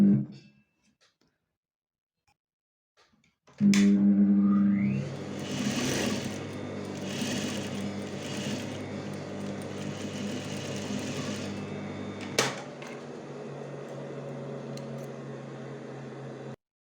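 Sewing machine laying a seam through a fabric strip for an edge binding with open raw edges, starting abruptly after silence and then running steadily and close for about thirteen seconds with a brief click partway through.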